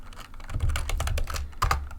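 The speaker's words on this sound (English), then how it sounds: "I'll just type" Fast typing on a computer keyboard close up, a quick run of light plastic key clicks and taps with brief pauses, no talking.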